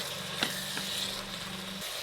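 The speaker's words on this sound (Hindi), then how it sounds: "अब अच्छी तरह इसको 1-2 मिनट फ्राई करें" Beef mince frying with spices and yogurt in a pan gives a steady, close sizzle, with a couple of brief scraping stir sounds early on and a faint hum underneath.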